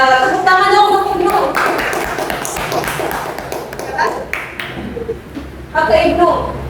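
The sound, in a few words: applause for the teacher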